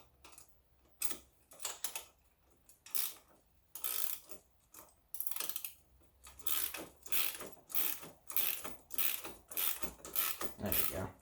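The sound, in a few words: wrench ratcheting while fitting Tusk nerf bars on ATV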